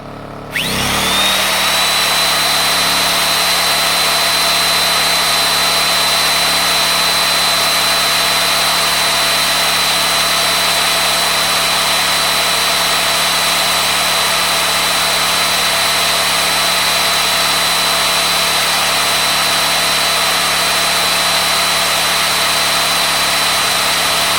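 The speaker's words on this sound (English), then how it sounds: "you're going to hear this drill is louder than the compressor, louder than the inverter" A power drill powered by a Champion 2000 watt inverter generator starts up and runs continuously at a loud, steady whine for a long stretch, with no pauses or change in pitch.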